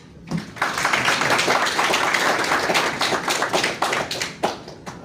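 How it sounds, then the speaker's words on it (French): An audience at a literary book presentation claps steadily and loudly for about five seconds, a dense patter of many hands with a few sharper claps near the end. "je voudrais qu'on l'applaudisse très fort"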